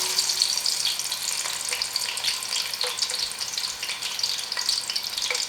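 Potatoes frying in hot oil for mutton yakhni pulao, a steady close bright sizzle and crackle with no talking.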